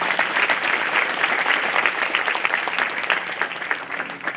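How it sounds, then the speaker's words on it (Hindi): Sustained clapping from a crowd at a college annual prize distribution ceremony, dense and even throughout, without any voices standing out. "एक बार जोरदार तालियां उनके लिए।"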